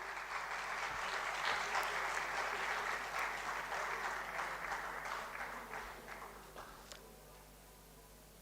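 Sustained audience applause fills a formal youth consultation event at Panjab University during a memento presentation to a High Court judge, a dense steady wash of many hands that gradually thins and fades toward the end.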